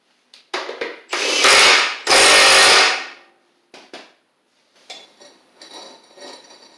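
Two loud bursts from a power tool tightening a bolt on a Husqvarna riding mower deck, each lasting about a second, followed by faint clicks and light metallic clinks in a quiet workshop.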